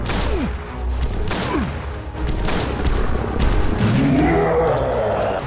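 Gunshots in the Heaven Dust video game, several heavy booming reports spaced about a second apart amid a dense, noisy soundscape, followed by a rising growl-like sound.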